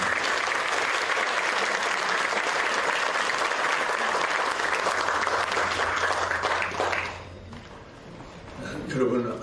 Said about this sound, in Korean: 여러분 힘찬 박수 부탁드리겠습니다.